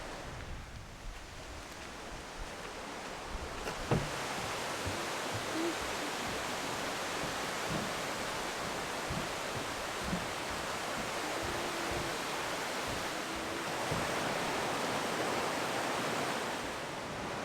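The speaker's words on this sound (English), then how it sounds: "I'm really sorry about the wind noise, but it is quite blustery today." Blustery wind buffets an outdoor microphone, a steady broadband roar with slight gusting swells throughout and no voices.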